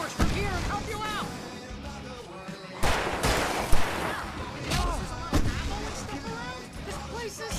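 Gunfire and explosive firework-like bursts in the video game Alan Wake Remastered, loud repeated shots and booms throughout a chaotic stage battle, with voices and music mixed in.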